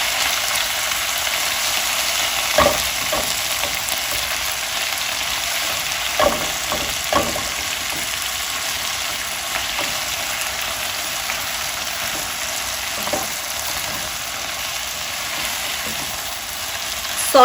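Gongura leaves sautéing in a pan, a steady close sizzle of frying throughout with scattered soft clicks and scrapes of stirring, no voices.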